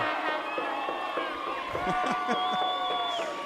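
Crowd noise at a youth 12-man football provincial game, spectators on their feet with cowbells going, a continuous broad roar with whistling whoops and rattling accents under nearby commentary-style talk.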